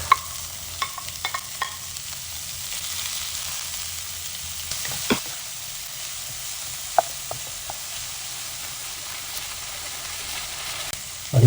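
Onions and tomatoes fry in a pan for sambal stingray, a steady close sizzle with a few light clinks and stirring taps scattered through, and no talking.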